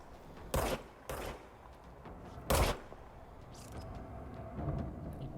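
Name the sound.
gunfire in video game Control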